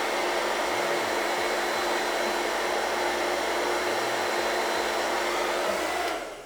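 Hair blow dryer running on its cool, low setting, a steady close-up whooshing roar of air with a faint motor whine underneath, holding level for several seconds before cutting off at the end.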